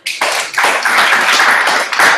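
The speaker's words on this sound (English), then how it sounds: "You can give a lot of applause." An audience bursts into applause after a business forum presentation on innovation and product development, close, loud dense clapping that swells and holds for a couple of seconds.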